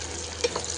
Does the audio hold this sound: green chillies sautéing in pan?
yes